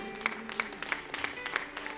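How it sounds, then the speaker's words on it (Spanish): A church congregation claps at a rapid, regular pace during a Spanish-language sermon, the applause faint and distant in the room. "Le podemos dar un aplauso al Señor."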